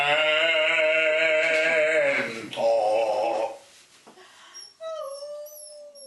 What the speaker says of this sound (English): At the end, Kalish, the dog's reaction, whimpering, was somewhat of my reaction